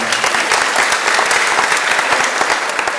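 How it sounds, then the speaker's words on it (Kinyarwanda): A church congregation applauds: dense, continuous clapping from many hands, loud and close, filling the whole moment without pause. "mufashe dukomere amashyi Imana."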